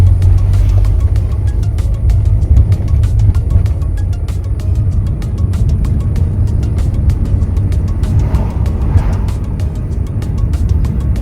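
A running car engine hums and rumbles steadily at close range while the gears are shifted without using the clutch, a continuous low drone with no clear revving and no voices.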